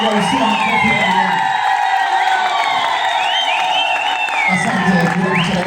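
A church congregation cheers and applauds, with whoops, shouts and high excited voices ringing over a dense clapping crowd, loud and sustained throughout.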